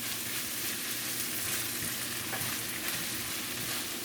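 Peppers sizzle and fry steadily in a pan for Jamaican ackee and saltfish, giving a continuous crackling hiss with faint stirring and no voices.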